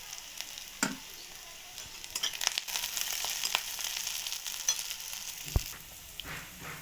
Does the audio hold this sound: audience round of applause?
no